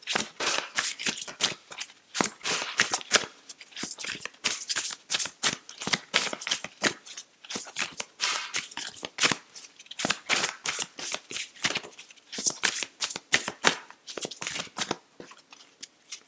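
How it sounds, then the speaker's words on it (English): Rapid, crisp riffling of large tarot cards being shuffled, with dense bursts of flapping and slapping repeating steadily throughout, close and fairly loud. "Get shuffling these large cards."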